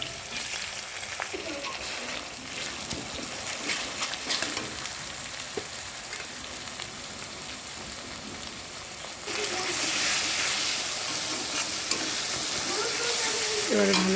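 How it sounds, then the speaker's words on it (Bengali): Onion and garlic sauté in a pan with bay leaf and cumin, a soft continuous sizzle that swells louder partway through, with faint scraping and stirring and some background voice. "এবারে ভালো করে কষিয়ে নিতে হবে।"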